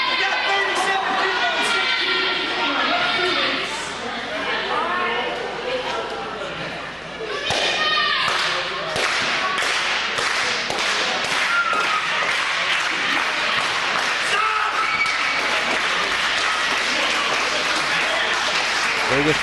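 A wrestling arena crowd roaring and cheering through a match, a dense constant din with bursts of clapping and thuds from the ring, and a commentator talking over it throughout.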